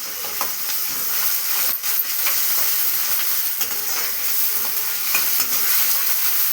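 Ginger, garlic and coriander paste fries in a pan with a loud, continuous sizzle and hiss while a spoon stirs it through with soft scraping strokes. No one speaks.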